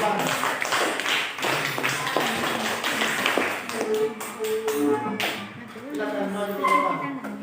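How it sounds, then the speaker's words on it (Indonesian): A group in a classroom training session claps hands in a short burst of taps that fades out as a voice carries on talking over the room. "Tepuk tangan dulu"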